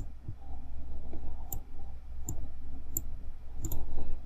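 A computer mouse clicks sharply several times at irregular intervals against a low steady hum of room noise.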